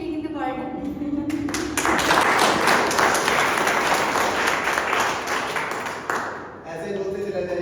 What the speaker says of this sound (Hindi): तालियां भी बजे